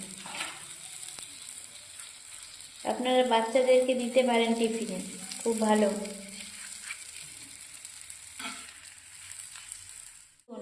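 Cheese paneer masala roti sizzling steadily in butter in a pan, a soft continuous fry running underneath a voice speaking over the middle of the stretch.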